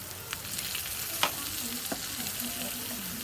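Chopped onions frying in hot oil with spices for a Bengali beef curry give a steady, fairly quiet sizzle throughout, with a few sharp crackles and a faint stirring scrape, and no talking.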